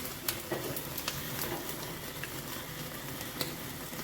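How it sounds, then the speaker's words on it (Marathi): Pieces of tandoori chicken roast in a pan with a steady close sizzle, a few faint pops and stirring scrapes rising above the frying hiss. "हे असं आपण भाजून घ्यायचं."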